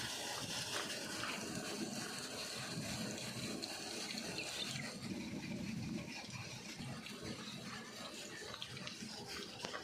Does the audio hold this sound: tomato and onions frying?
no